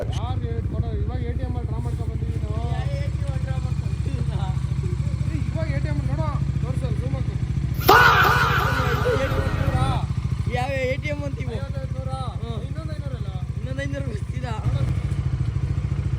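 A motorcycle engine runs steadily at idle with a low, even throb throughout, under ongoing conversation between people, with a brief louder burst of noise midway.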